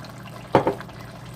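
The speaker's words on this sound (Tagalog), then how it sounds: "Mag-add tayo ng pasta sauce" Thick pasta sauce for lasagna plops into a pan in two quick, soft wet glugs close by, with a quiet room before and after.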